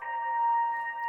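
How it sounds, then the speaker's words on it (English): A dry Serum synth pluck with no effects sounds alone, a single bright tonal note sustaining steadily for about a second at moderate level. "which is just the pluck, which is the serum"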